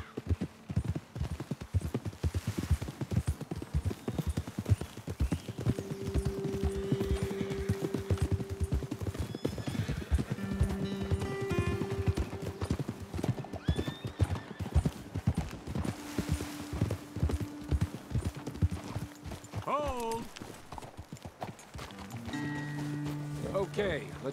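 Horse hooves clip-clopping in Red Dead Redemption 2, a steady rhythmic walk on a trail with occasional snorts, while characters talk over the hoofbeats.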